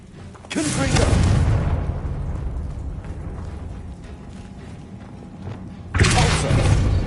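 Confringo fire blast spell in Hogwarts Legacy: a loud booming burst with a rumbling tail that slowly fades, then a second heavy blast near the end, alongside game effects.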